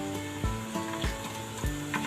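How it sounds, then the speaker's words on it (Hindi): Whole spices and onions fry in oil for chana pulao with a lively sizzle, broken by about four dull knocks and scrapes from stirring. "मैं इसे ऑयल में थोड़ी देर के लिए इसे फ्राई कर लेती हूँ प्याज के साथ"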